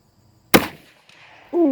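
A single sharp shot from a Savage 65M .22 magnum rifle, followed a moment later by a faint metallic tick of the round striking a 5-inch steel plate, then a brief voice.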